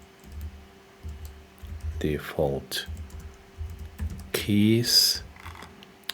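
Typing on a computer keyboard while setting up a button in the Godot 4 game engine, light scattered key clicks running under a voice speaking, close and moderately loud.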